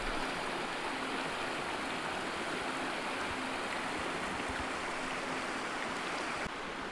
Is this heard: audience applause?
no